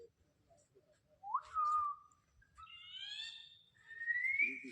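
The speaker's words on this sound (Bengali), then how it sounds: "পাখির আওয়াজ পাচ্ছি।" Clear, tonal bird calls in a forest, a rising whistled note followed by layered whistling phrases, fairly close and isolated against a quiet background, with a faint low rumble underneath.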